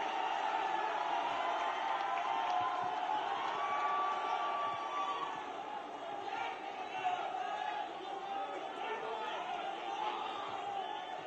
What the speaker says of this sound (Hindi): जोरदार तालियों के साथ उनका स्वागत हम करें